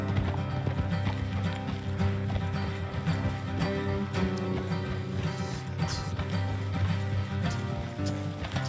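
Horse hooves galloping in Red Dead Redemption 2, a fast continuous clatter of hoofbeats on the ground that stays close and steady throughout.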